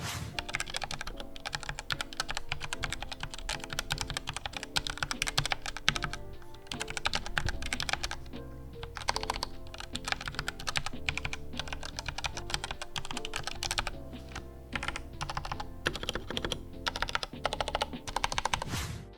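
Steady, dense typing on an ACTTO B705 tablet keyboard, soft rapid clacks running continuously at close range with no pauses or voices.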